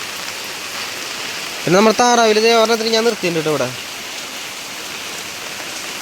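Heavy rain pours on a home farm, a steady broadband wash of rainfall heard throughout, with someone talking over it briefly in the middle.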